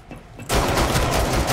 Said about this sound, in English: they're shooting each other